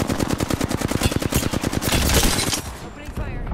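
Rapid automatic gunfire in the video game Apex Legends, a dense stream of close, loud shots for about two seconds, then a sustained burst and rattling fire continuing to the end.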